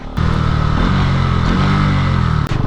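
A Bajaj Pulsar NS 200 motorcycle engine revs steadily and loudly close by, a continuous throttle drone lasting almost the whole stretch, with a brief dip near the end.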